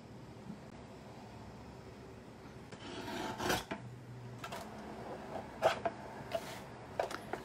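Paper cards being trimmed, decorated with white pigment ink, give a quiet rasping, scraping cut that builds midway through, followed by a few short scratchy strokes; no talking.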